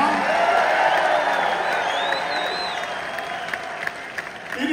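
Crowd at a metal tribute concert in a Hollywood, Florida hall applauds and cheers, with sustained clapping, whistles and whoops that gradually fade toward the end.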